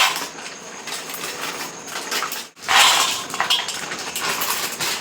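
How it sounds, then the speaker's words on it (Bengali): Two packets of dry soya chunks are poured into a bowl in a home kitchen, making a light rattling clatter that stops briefly, then resumes in a louder, denser burst. "দু প্যাকেট সোয়াবিন কিন্তু একটা বাটির ভিতরে ফেলে নিলাম"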